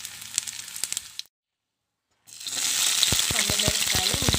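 Spices fry in a pan for coconut chutney, a close crackling sizzle with scattered pops that drops to silence for a second, then returns louder and denser.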